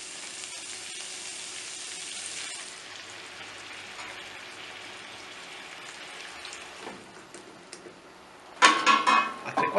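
Seafood sauce with mussels, squid, cuttlefish, shrimp and octopus simmering in a pan for fish couscous, a soft continuous bubbling sizzle like light rain, ending in a louder burst of clattering and crackling near the close.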